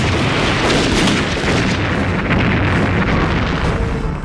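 Gunfire and explosions in a war drama: a dense, loud, continuous barrage of blasts and booms with rapid overlapping bursts, with no break across the clip.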